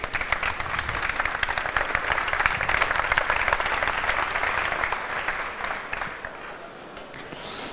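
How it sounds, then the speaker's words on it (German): Audience applause at a finance and IT forum talk as speakers take the stage, sustained clapping from a conference crowd that gradually softens toward the close. "einen Applaus bitte für unsere Speaker."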